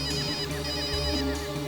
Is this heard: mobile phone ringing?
yes